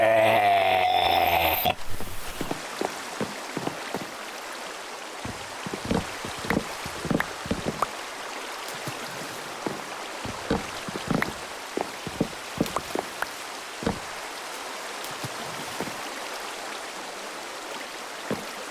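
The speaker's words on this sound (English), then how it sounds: "And now it's raining," Minecraft rain falls as a steady wash of noise, with many scattered droplet taps patterring on surfaces throughout, after a short burst of other game sound at the start.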